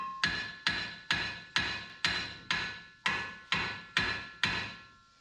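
Sharp hammer blows strike the brake caliper bracket on a 2006 Silverado truck, about ten evenly spaced metallic knocks, each ringing briefly before the next, close and alone.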